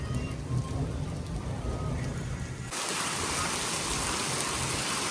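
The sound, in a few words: heavy rain in the Himachal Pradesh hills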